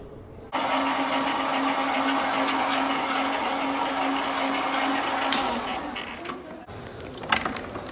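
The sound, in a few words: stone floor polishing machine with powder-water paste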